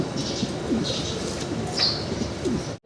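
Restless pigeons flutter and shuffle inside a cage, with a few soft coos and brief wing flaps rising over a steady low rustle, close by and moderately quiet, no voices.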